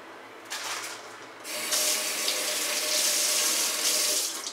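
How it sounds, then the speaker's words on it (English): A kitchen tap runs while water is added during fried rice cooking, a steady close hiss that starts softly, surges louder after a brief pause and flows on continuously, with no voices. "Put some water in."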